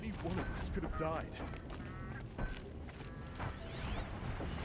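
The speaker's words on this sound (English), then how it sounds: "A lot of geese here." Geese honk in the video game Horizon Zero Dawn, several short nasal calls scattered across a few seconds amid a busy game soundscape, fairly close and moderately loud.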